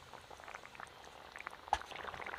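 A pumpkin and paneer curry simmers in a pan with quiet, scattered bubbling pops and one slightly sharper pop partway through.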